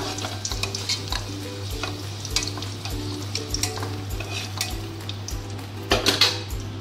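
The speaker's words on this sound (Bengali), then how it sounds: "এবার জিরা ফোড়ন দিলাম" Whole cumin seeds tempering in hot oil after potatoes were fried, a steady crackling sizzle with repeated metal stirring and scraping against the pan, under a constant low hum.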